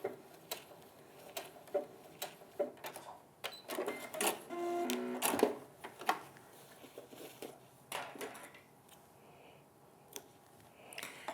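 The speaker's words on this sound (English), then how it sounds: "so we'll stitch for 4 with my machine" A domestic sewing machine stitches an appliqué quilt block in short bursts of rapid mechanical clatter separated by pauses and small clicks, close and fairly quiet, with no talking.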